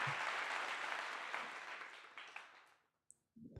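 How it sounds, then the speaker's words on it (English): A round of applause from a small group rings out loudly, then thins and fades over about three seconds, ending with a few scattered claps. "round of applause for that"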